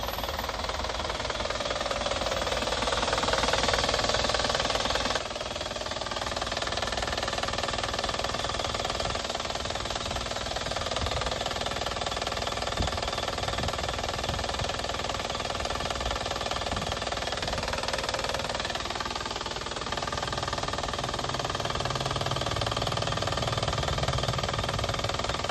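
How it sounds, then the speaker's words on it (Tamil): A silver Chevrolet Tavera seven-seater sits with its engine idling, giving a steady, even mechanical hum and rattle that holds for the whole stretch with no one talking. "இன்ஜினோட நாய்ஸை அப்படியே லைவாக கேட்கலாம் வாங்க."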